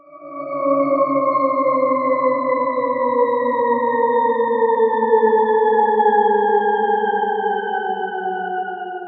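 A sustained, eerie, layered electronic Shepard-like tone glides slowly and continuously in pitch, its stacked harmonics sounding dissonant and unending.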